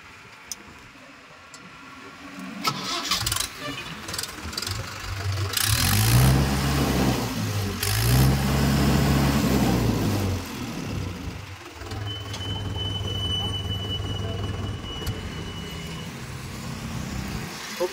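A second-hand Mahindra 575 Sarpanch tractor diesel engine runs nearby, starting up and rising to a loud, steady rumbling idle with a few revs, continuing throughout with no talk.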